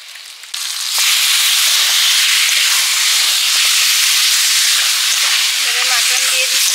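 Mutton hitting a pot over an outdoor clay stove, bursting into a loud, dense hiss and sizzle that holds steady, with a faint voice near the end.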